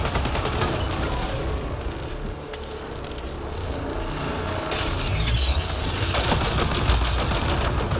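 Gunfire in Mass Effect Andromeda, with a near-continuous, loud barrage of rapid shots and mechanical clatter that grows denser and harsher in the second half, with no talking.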